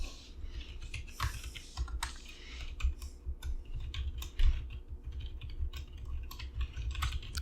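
Steady typing on a computer keyboard in a quiet indoor setting, with rapid, uneven clusters of close, soft key clicks and no talking.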